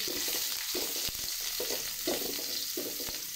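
Unpeeled garlic frying in a pan gives a steady close sizzle, with soft stirring scrapes and a couple of light knocks against the pan.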